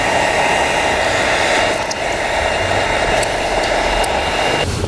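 A heat gun blows hot air onto tint film on an Infiniti Q headlight, making a loud, continuous close-up whooshing roar that holds steady, with a brief dip near the middle and a few faint clicks.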